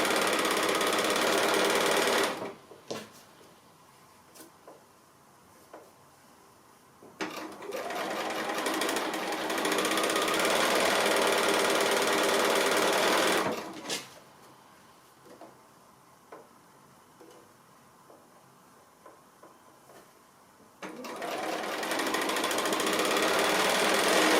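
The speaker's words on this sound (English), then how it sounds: "We are actually sewing through the point of the piece underneath" A sewing machine stitches quilt block pieces for a wandering goose block in several loud, steady bursts of rapid mechanical whirring, separated by short quiet pauses.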